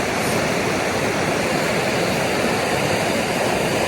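The Virgin River in Zion National Park rushes steadily as a continuous, loud broadband wash of flowing water, with no pauses and no voices.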